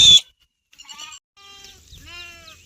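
Sheep grazing in wet green field plots after rain bleat close by, with a short sharp cry first and then a few wavering bleats, alone with no talk.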